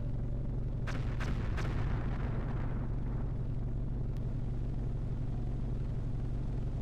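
Weapon fire and an explosion in the video game Hostile Waters: Antaeus Rising: a few sharp blasts early on give way to a long, steady low rumble that continues to the end.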